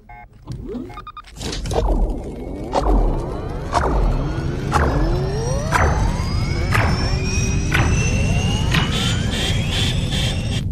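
Engines of a ship in a Transformers cartoon ignite for takeoff, a series of rising mechanical whines and thumps that build into a loud steady roar.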